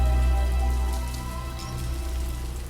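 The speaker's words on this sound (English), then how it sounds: "Streetlights are beginning to fade as the rain gets lighter." Steady rain falls in a dark street just before dawn, a dense, even hiss of drops on surfaces that eases slightly as it continues, with no voices.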